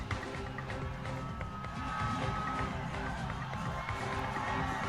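A large street crowd at PM Modi's road show in Ayodhya cheers and shouts in a steady roar, with scattered voices and whistles rising over the dense background.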